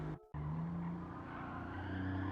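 A race car in Gran Turismo 7 powers through a corner in fourth gear, its engine droning steadily with a brief cutout near the start, then a sustained, loud tone under a faint tire squeal.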